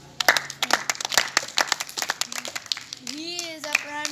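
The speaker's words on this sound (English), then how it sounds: "Clapping, clapping." Several rounds of hand clapping, sharp close claps in quick irregular bursts mixed with children's voices talking and exclaiming.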